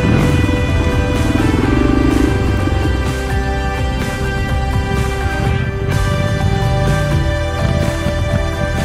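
A trail motorcycle climbs a gentle slope ending in rocky ground, its engine droning steadily and close, rising and falling slightly as the rider works over the stones.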